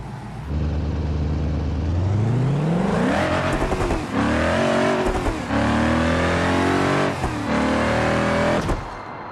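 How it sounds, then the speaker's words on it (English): A tuned limousine in the BeamNG Drive racing game launches down a quarter-mile drag strip, its loud engine revving up steadily through several gear shifts, rising and falling in pitch with brief dips between gears, with no talk. "See what we're going to run in the quarter-mile."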